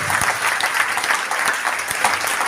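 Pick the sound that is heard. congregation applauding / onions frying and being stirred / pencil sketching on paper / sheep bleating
congregation applauding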